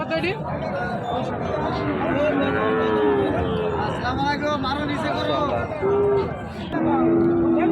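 Cattle low at a busy livestock market, long moos rising above a constant crowd babble, with someone talking close by.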